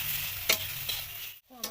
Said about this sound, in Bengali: আমার সর্ষের ফুলটা ভাজা হয়ে গেছে।